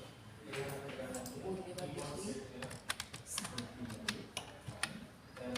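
Quick typing on a computer keyboard, sharp key clicks and taps in irregular bursts over a steady background hum, close and moderately loud, while a microcontroller LED demo is programmed.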